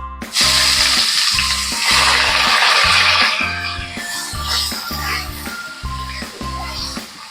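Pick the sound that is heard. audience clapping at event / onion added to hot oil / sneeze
onion added to hot oil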